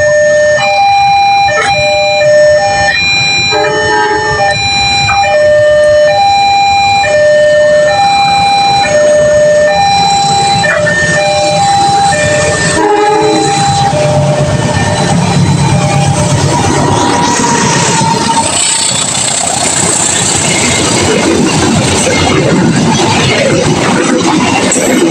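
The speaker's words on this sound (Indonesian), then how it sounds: "Kereta api parsel utara berpapasan dengan kereta api apa ini?" Trains pass through Cikarang station in Indonesia as a northbound parcel train crosses another train: loud repeated horn blasts come first, then a heavy, building rumble as the trains roll through close by.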